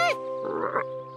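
A single short croak from a cartoon frog, grown from a released tadpole in a children's animated show, rising briefly over a steady background music bed.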